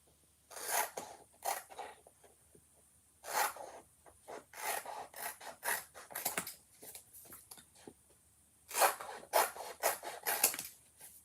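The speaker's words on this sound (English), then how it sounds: "There's always so much wasted material on these transfers that I'm just going to trim that off." Scissors trim waste material off a Chalk Couture transfer sheet in short, close, rasping snips and crinkles. The cuts come in irregular bursts with brief pauses between them, quiet and alone.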